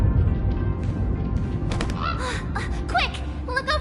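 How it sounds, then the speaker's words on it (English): Sunday's bird in Honkai Star Rail gives a run of loud, nasal goose-like honks that grow more frequent toward the end, heard close over a low rumbling background. "Look over there! Sunday's bird!"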